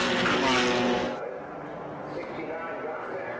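GT race cars in a Pirelli World Challenge GTS-X round at the Rose Cup Races, including a BMW, roar loudly toward the first turn just after the green flag, engines swelling close then easing into a steady drone.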